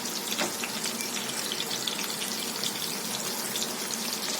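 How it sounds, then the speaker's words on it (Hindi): Chapli kabab mutton patties fry in a pan over medium-high flame, giving a steady, dense hiss and sizzle with faint crackles throughout, close and even with no talking. "फ्लेम को मीडियम टू हाई पर रखेंगे और इसे अच्छी तरह फ्राई होने देंगे।"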